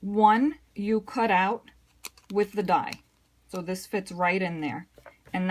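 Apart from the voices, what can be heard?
None of the usual background noises is heard.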